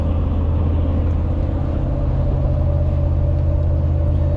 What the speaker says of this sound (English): as you can hear, the tire noise isn't terrible